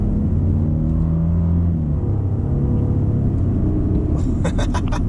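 A Lexus LX600 SUV rounds a bend with a steady, heavy road and engine rumble from inside the cabin, a slight pitch shift through the turn and a few faint clicks near the end.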